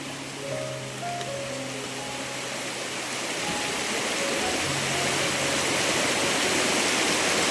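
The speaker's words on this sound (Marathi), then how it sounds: "नदीला सर्व खदूल पाणी आलंय" River running high with muddy flood water, a broad, continuous rushing roar that swells slightly louder toward the end, with no voices.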